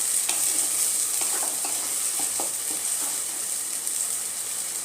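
Spice masala fries in a pan over medium flame for a chicken dish. A steady bright sizzle carries on throughout, with scattered scraping stirs close by.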